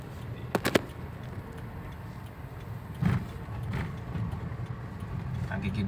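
A 2007 Toyota Avanza fitted with a Blackcore part pulls along in second gear, its engine a low steady rumble heard from inside the cabin, with a few light clicks and rattles.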